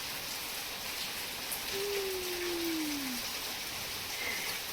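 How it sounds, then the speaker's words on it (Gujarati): Rain falls in a soft, steady patter close by, faint and continuous, with a brief tonal whine passing over it midway. "વરસાદ પડે છે"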